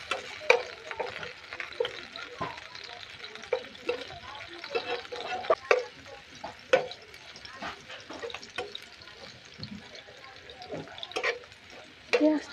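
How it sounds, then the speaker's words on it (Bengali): Chopped onion sizzles in hot oil in a karahi wok, a steady close frying hiss broken by repeated clattering stirs and scrapes, with a voice speaking now and then. "তেলটা হয়ে গেছে, এর মধ্যে আমি পেঁয়াজ কুচি দিয়ে দিলাম।"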